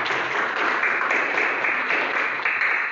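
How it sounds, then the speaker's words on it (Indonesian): A classroom of pupils claps together in dense, steady applause that fills the whole moment at a fairly even level. "kita tepuk tangan"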